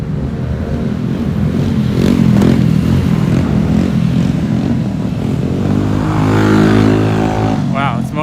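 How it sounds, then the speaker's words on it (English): Several motorcycles pass along a Brooklyn neighborhood street, loud close engine roar and revving rising and falling over traffic noise, with people talking underneath. "We have so many motorcycles in the neighborhood."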